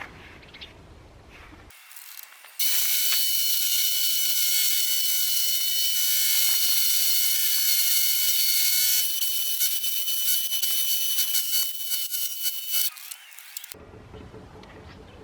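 A belt grinder shapes a dual-blade dagger, a steady, loud, bright grinding roar that starts abruptly, runs for about eleven seconds with slight shifts in pitch and texture, then cuts off, with quiet room noise before and after.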